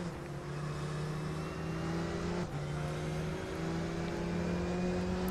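Race car in the sim racing game rFactor 2 pulling away from the start on cold tyres, a steady loud engine drone with a held high tone throughout, briefly dipping midway as the revs shift, no voices.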